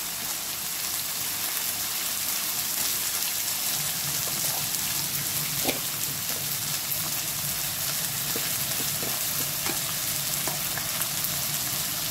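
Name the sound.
stirring chicken with mushroom in a pan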